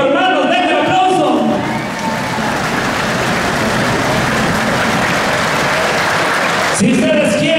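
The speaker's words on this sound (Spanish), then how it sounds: "Si ustedes quieren que el primer lugar se vaya con Rancho Cinco Hermanos, denle un aplauso." An audience at a jaripeo bull-riding tournament in Chicago claps loudly and continuously to vote for Rancho Cinco Hermanos, a dense crowd roar with a voice over it at the start and again at the end.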